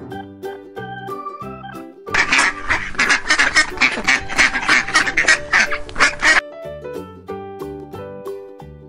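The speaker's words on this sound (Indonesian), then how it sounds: "Duck." A rapid run of loud duck quacks bursts out over a light plinking melody, lasting several seconds before the music continues alone.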